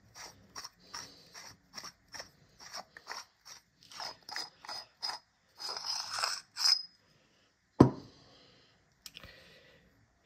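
A hand-built, machined custom lightsaber hilt being unscrewed to reach its chassis, giving a rhythmic series of close, dry ratcheting clicks and short metallic turns, followed by a sharp knock and a faint final tick.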